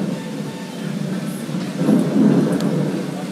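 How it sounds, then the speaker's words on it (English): Thunder rumbles low and heavy during a thunderstorm at Disneyland Paris, a deep rolling swell that peaks midway amid steady rain-like outdoor noise. "Thunderstorm."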